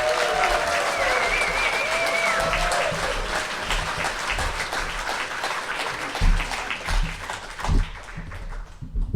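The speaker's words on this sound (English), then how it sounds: "Let us welcome her to the stage with thunderous applause, Bowen Lee." A crowd at a liars storytelling contest bursts into sustained applause, dense clapping that carries on and gradually thins toward the end.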